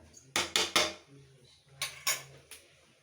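Rice and lemon juice stirred in a metal pot produce faint clanks and scrapes of a spoon against the pot, in two clusters of three sharp knocks.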